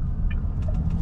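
A Wuling Cloud EV electric car pulls away briskly, with a steady low road rumble and faint tire and motor noise throughout, close and continuous with no one talking.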